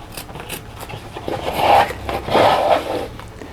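Scissors snip and scrape through a fabric heart appliqué, trimming close to the embroidered stitching, in a couple of slow, rasping cuts heard up close with no talking.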